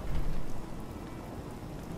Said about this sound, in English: Wonderful it'd be to get out of this infernal rain.